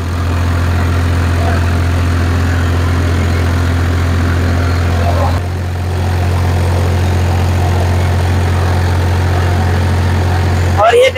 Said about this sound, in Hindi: बिल्कुल बहुत ही कम RPM ड्रॉपेज के साथ चल रहा है फार्मटेक 60